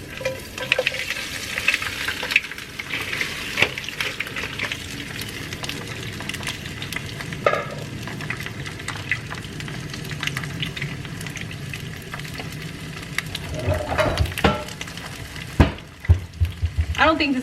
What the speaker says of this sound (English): So go ahead and pour in your shrimp.